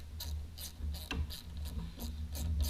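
Ratchet wrench tightening a bolt on a Kawasaki ZX10 starter cover, a close run of evenly spaced clicking strokes, about six or seven in under three seconds, alone without talk.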